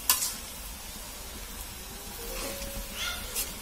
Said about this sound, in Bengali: শাকটা নাড়াচাড়া করে দেব, দিয়ে মশলার সাথে মিশিয়ে নেব।